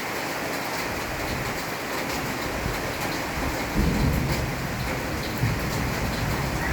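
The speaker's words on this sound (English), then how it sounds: "Wait for the thunder." Thunder rumbles during a tropical rainstorm in the hills of Bohol, Philippines, heavy steady rain hissing throughout with a low rolling swell of thunder building midway and lingering under the downpour; no talking.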